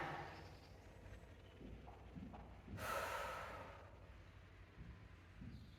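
Heavy breathing from someone recovering during a short rest between rowing machine intervals, with audible breaths and a sharp rush of air near the middle, close and fairly quiet.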